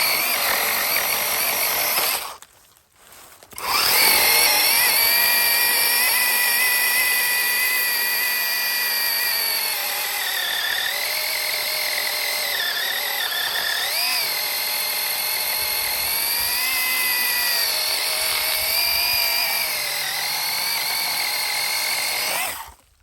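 A cordless hand saw runs loud and steady close by, briefly stopping and restarting, its whining motor pitch wavering as it cuts through apple tree branches.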